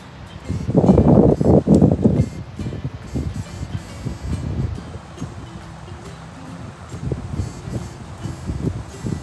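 Strong wind buffets the microphone at an outdoor bird-watching spot near water, with loud gusty rumbles at the start that settle into a steadier, rougher blowing.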